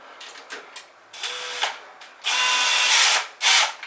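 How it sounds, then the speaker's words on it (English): A drill spinning a brush inside a dryer vent line spins up in several short bursts, then runs in a longer loud whirring stretch with a scratchy, brushing rasp, stopping briefly before one final burst. "we're going to attach our drill."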